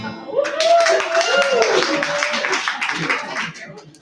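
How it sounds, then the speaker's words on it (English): Clapping breaks out from a comedy showcase audience, a loose burst of hands with cheering and voices mixed in, fading toward the end. "Clap it up if you've ever been in love before"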